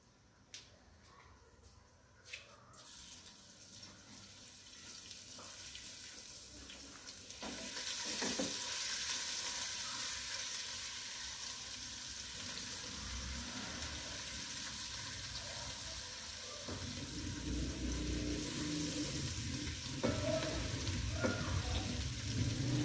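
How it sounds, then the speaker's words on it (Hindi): Crushed garlic fries in more than a cup of hot oil for chicken biryani, a steady broadband sizzle that swells after the first few seconds and keeps going, with occasional stirring clinks and no voice. "अब ये कुटा हुआ लहसुन मैं इसमें डाल दूंगी।"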